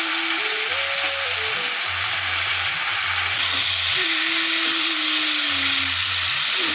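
Moringa drumstick pieces fry in a pan with turmeric and salt, giving a steady broadband hiss and sizzle throughout, with faint low hum and a whistling tone in the background; no one speaks.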